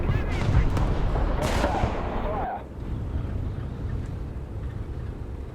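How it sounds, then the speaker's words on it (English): Artillery fire in the War Thunder tank game, a Swedish Lago 1 tier-2 medium tank battle: dense, rumbling booms and crackling gunfire that fill the first half, then ease into a steadier, lower battle din. "Preoccupy some of these people with artillery"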